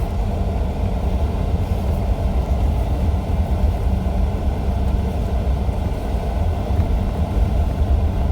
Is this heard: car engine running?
yes